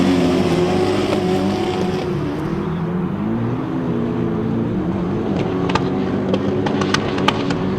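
Six grasstrack sidecar outfits race together, a loud continuous blend of revving engines rising and falling as they circle, with no break in the roar.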